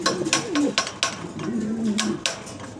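Low, rolling coos of white pigeons sound close by, mixed with sharp clicks and flutters from birds moving around.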